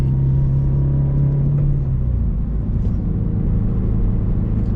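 A car with 45,000 miles drives with its windows open, giving a loud, continuous low rumble of engine and road noise, with a steady hum that drops in pitch after a couple of seconds.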